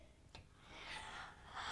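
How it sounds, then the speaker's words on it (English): A single soft, breathy yawn, faint and brief, with an airy exhale, heard in a children's teddy bear alphabet sing-along. "It's a yawn."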